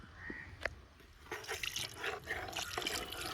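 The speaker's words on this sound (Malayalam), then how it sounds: "ആവശ്യത്തിനുള്ള വെള്ളം കൂടി നമുക്ക് ഇതിൻ്റെ അകത്തോട്ട് ഒഴിച്ചു കൊടുക്കാം" Water trickles and splashes into a pot of masala-coated meat, a soft, steady pour with a few small drips. No one speaks.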